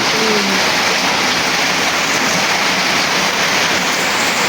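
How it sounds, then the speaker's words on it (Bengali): Heavy rain pours steadily during a sudden storm, a dense continuous hiss of falling water that stays loud and even throughout with no voices. "বৃষ্টি কিন্তু ব্যাপকভাবে নামতেছে"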